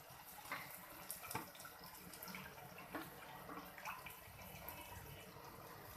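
A lassi and gram flour mixture is poured into simmering saag while it is stirred, giving a steady wet, trickling splash with small clinks throughout.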